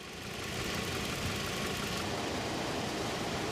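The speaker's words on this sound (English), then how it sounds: "car just shaking too much when it's idling like this Toyota?" A Toyota car engine idles roughly with a low, rough rumble, shaking and a faint vibrating knock, constant and close, with no talking; a low idle problem linked to the throttle body.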